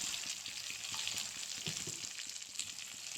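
Turmeric, cumin and coriander powder stirred in a hot pan with pointed gourd, an even sizzle broken by repeated spatula scrapes and taps, close, no speech.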